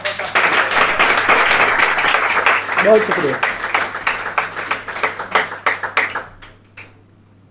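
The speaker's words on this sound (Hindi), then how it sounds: "एक बार जोरदार ताली हो जाए।" Loud audience applause at a mushaira poetry gathering, dense clapping that thins into scattered claps and fades out, with a brief spoken thank-you over it.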